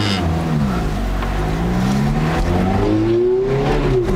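Black Ferrari F430 engine revving hard from inside the car, loud and close, with rising and falling engine pitch that climbs steadily toward the end and no talk over it.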